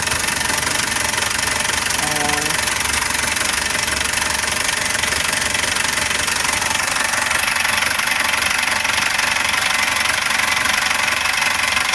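A Foton CRDI diesel engine runs with a dense, steady mechanical clatter and knocking as it is throttled, loud and close throughout, with a brief voice partway through.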